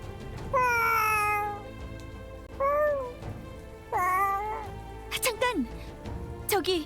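A cat in the video game Brown Dust 2 meows several times in clear, close, drawn-out calls with short gaps, followed by a few quick chirpy sounds.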